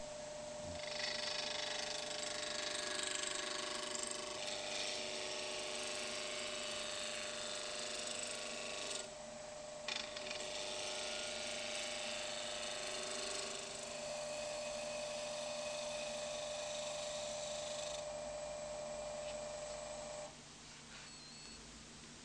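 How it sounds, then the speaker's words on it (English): A wood lathe spins a square blank while a roughing gouge takes it down to round, giving a steady, moderately loud whirring and tonal machine hum with rough cutting texture that runs alone, then briefly drops and resumes before dying down near the end. "Turn the lathe on at a safe speed. Using a roughing gauge, turn the outside of the wood down to the round."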